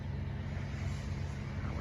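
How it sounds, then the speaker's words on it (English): Road traffic passes by in a steady, close engine rumble with a low, continuous drone and no breaks, heard alone without speech. "We've got traffic interfering."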